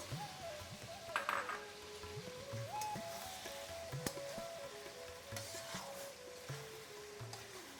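Pepper chicken with mint and garlic fries in a pan, a quiet sizzle dotted with scattered spoon clinks and stirring scrapes, while a faint melodic tone wanders in the background.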